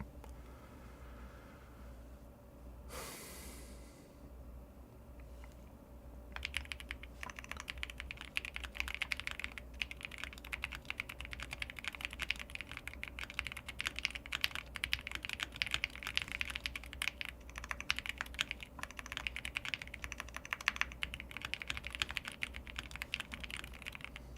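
Close, fast computer-keyboard typing during a TypeRacer typing race, starting after a few quiet seconds and then running as a steady, dense clatter of keystrokes to the end.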